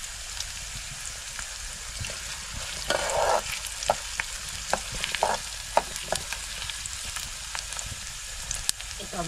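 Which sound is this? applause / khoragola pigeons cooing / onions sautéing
onions sautéing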